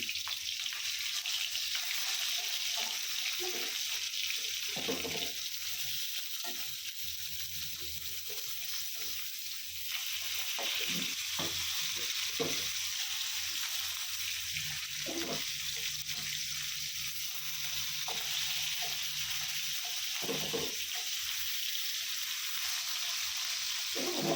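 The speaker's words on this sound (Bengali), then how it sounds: "মাছগুলো ভাজা হয়ে গেছে উঠিয়ে নেব" Rohu fish cut into rings frying in hot oil, a constant close sizzle and hiss with occasional soft pops and spatter bursts, steady and moderately loud, with no talking.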